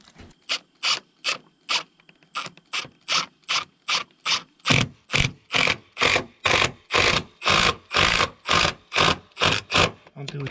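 A power driver sinks a screw into a deck post on a Fiberon decking and railing build, a long run of rapid, evenly spaced ratcheting clicks that grow louder and heavier over about ten seconds, close by.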